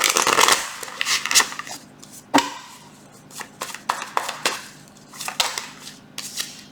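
Tarot cards being shuffled by hand in a series of crisp riffles and slaps, close and fairly loud, with no talking.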